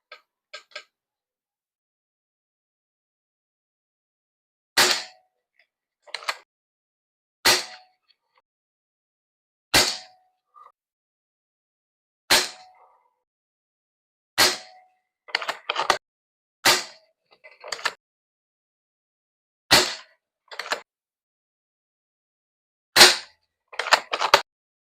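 Air gun shots fired from a T-Rex magazine at 17 meters, about a dozen sharp cracks spaced a few seconds apart, each followed by a faint metallic tick, loud and clear in otherwise quiet surroundings.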